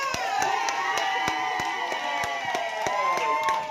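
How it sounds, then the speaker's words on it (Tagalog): Guests at a 70th birthday party clap in a steady rhythmic beat while voices cheer and shout together, a lively crowd close to the microphone. "palakpakan siya!"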